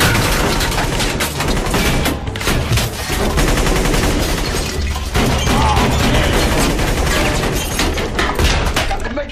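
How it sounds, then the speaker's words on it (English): Sustained gunfire from a movie shootout in a small room, with dense, continuous shots and bursts, loud and close throughout. "They can't hear you because they're still shooting at you."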